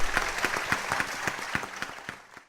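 Summit audience applauds panelists with a short round of scattered clapping that starts full and tapers off, fading out by the end.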